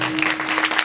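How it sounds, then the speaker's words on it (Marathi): An audience at a devotional kirtan gathering claps together, a dense, continuous burst of applause lasting under a second. "टाळी वाजवा"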